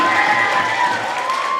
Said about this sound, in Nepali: ल जोरदार ताली स्वागत गरेर पुरा मजाले ताली बजाउँ है।